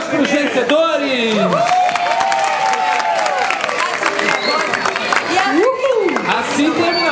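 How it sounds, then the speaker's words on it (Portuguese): Audience applause and cheering for the winners at a storytelling panel session, loud and sustained throughout, with excited voices and shouts rising over the clapping crowd. "Palmas para os vencedores!"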